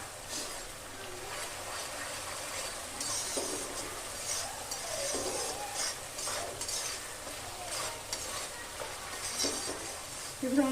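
Masala with coriander paste cooks in a pan for tangra fish, with a soft continuous sizzle under intermittent stirring scrapes and faint utensil clinks, close and fairly quiet.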